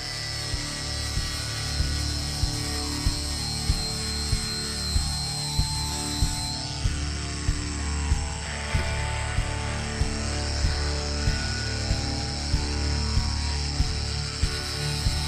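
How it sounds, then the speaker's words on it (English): An angle grinder fitted with a sanding disc working a welded side panel of a Tesla Model 3, giving a steady, loud abrasive whine with rhythmic scraping pulses as the disc bites the metal, alone without talk. "I need to grind this next spot"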